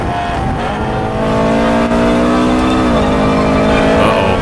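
A race car engine in a racing video game revs hard and climbs in pitch under acceleration, shifting briefly before pulling again, loud and continuous with no speech.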